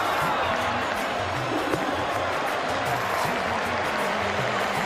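Capacity cricket crowd at Eden Park during a World Cup semifinal between Pakistan and New Zealand, a steady roaring murmur with scattered claps and cheers filling the whole stretch, loud and continuous.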